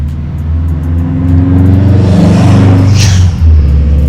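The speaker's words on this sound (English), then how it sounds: "I hear a Subaru coming." A Subaru car drives past on a road, its low engine rumble swelling as it approaches, peaking loud and close with a whooshing rush, then fading slightly as it goes by.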